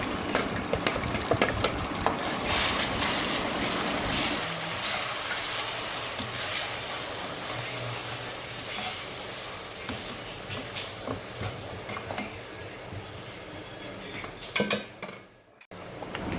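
Blended puree being stirred and mixed in a pan for kofta curry, with steady scraping and clinking of a utensil against the pan over a soft sizzle, close and continuous, with a brief louder clatter near the end.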